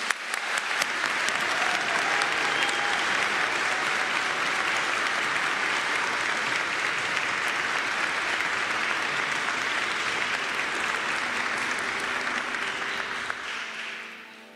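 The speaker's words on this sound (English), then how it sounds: "Let's give them an applause." Nursing students at a summer pinning ceremony receive sustained applause from a large crowd, a thick continuous roar of clapping that holds steady for a long stretch before dropping away at the close.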